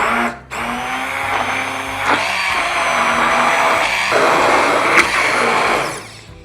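Immersion blender whirring steadily as it purées a thick blue cheese and cottage cheese dip, a loud continuous motor drone running for about six seconds after a brief start, then cutting off.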